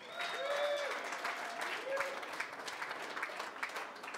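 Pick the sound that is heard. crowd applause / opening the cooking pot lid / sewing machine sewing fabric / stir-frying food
crowd applause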